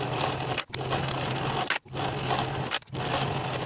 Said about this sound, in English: Stitch in the ditch of that main bias tape seam from top to bottom